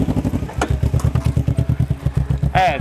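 A motorcycle idles close by while it is eased to the roadside, its engine thumping in an even, rapid pulse with a little clatter. A short voice cuts in over the engine near the end.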